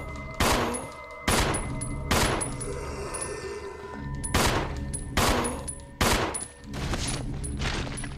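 Gunfire from Resident Evil 0 HD Remaster on PS4, aimed at a zombie: about eight loud, sharp shots in a fast uneven series, each ringing briefly, with no talk over them.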